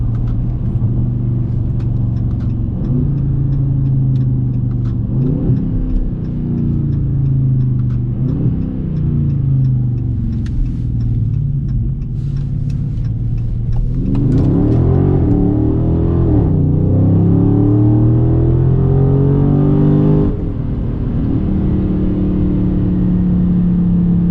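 A Dodge Charger Scat Pack engine rumbles and revs hard at night, rising in pitch through repeated gear pulls, loud and close throughout without any talking.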